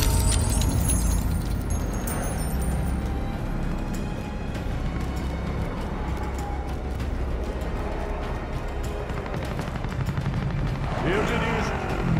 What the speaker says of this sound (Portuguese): Atenção! Helicóptero inimigo chegando.